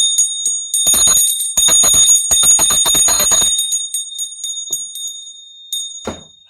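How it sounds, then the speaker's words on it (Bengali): A ritual hand bell rings in a long run of bright, rapid strokes with a sustained metallic tone, loud and close, then fades to a few scattered strikes and a soft thump near the end. "আর এই ঘন্টা"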